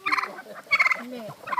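A chicken on a traditional poultry farm gives three short bursts of clucking and squawking close by, with brief pauses in between.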